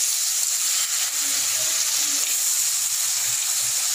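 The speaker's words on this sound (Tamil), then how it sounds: "இப்போ நம்ம நண்டு இந்த மசாலாவில் ஆட் பண்ணிடலாம்." Crab pieces go into a pan of hot masala for Tamil crab kulambu, and the pan gives off a steady, close sizzle with faint bubbling and stirring throughout.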